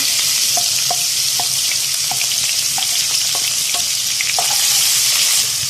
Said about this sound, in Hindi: अब हम इसके अंदर एक चॉप की हुई प्याज ऐड करेंगे